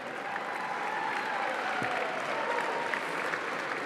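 Steady applause from a large gala audience at a charity dinner, dense and continuous throughout, moderately distant with a faint murmur of crowd beneath and a brief voice near the middle.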